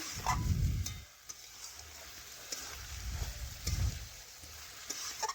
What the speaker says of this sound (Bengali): এ দেখুন এইভাবে বেশ কিছুক্ষণ নাড়াচাড়া করে কষিয়ে নিচ্ছি